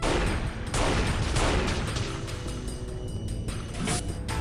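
Rapid bursts of gunfire from the first-person shooter game Unreal, loud and dense, dominating throughout with a continuous barrage of overlapping shots.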